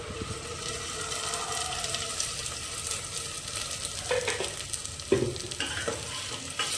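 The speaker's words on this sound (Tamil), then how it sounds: "இப்போ நம்ம அரைச்சி வச்ச தக்காளி விழுதை சேர்த்துக்கலாம்" Steady sizzling and frying of ground tomato paste in a pan with occasional stirring scrapes and clinks, continuous and close, no voices.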